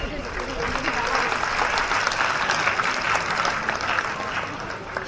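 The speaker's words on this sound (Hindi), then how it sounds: "बढ़ाइए अपनी तालियां" An audience at an alumni meet cultural night breaks into dense, continuous applause, loud and steady, with crowd noise mixed in.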